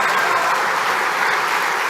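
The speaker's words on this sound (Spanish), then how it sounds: "merece un aplauso" Dense, steady applause from a university audience at UNAM in Mexico, greeting a political speech by Alberto Fernández; loud, continuous clapping fills the whole stretch with no voices over it.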